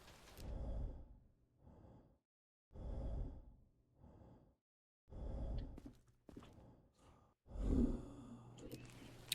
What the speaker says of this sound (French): une respiration typique d'infecté.